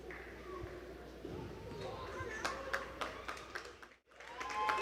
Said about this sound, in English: And applause from the Israel fans, and likewise from the small number of Germany fans in attendance.